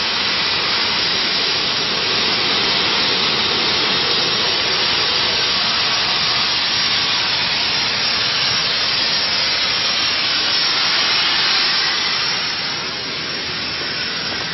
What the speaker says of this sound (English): the air is coming out from all 8 tires